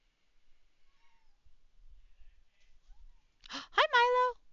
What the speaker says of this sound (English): my cat has arrived.